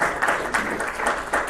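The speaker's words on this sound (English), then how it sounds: "give a big round of applause to this captain who has led the game" Applause for a team captain at the closing ceremony of a doctors' T20 cricket league in Dubai, a steady wash of crowd clapping with slight swells, fairly distant, no talk over it.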